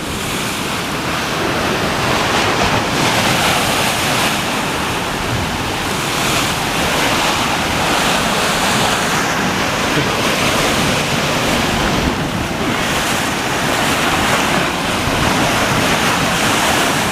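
Heavy surf roars continuously, with waves crashing and washing over rocks at Cave Point County Park, Sturgeon Bay, Wisconsin, mixed with strong wind buffeting the microphone.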